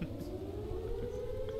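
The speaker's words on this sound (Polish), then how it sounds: "Syreny." Sirens wailing in the video game Last Days of Lazarus, a steady rising tone over a low rumble, continuous and moderately loud with no talk.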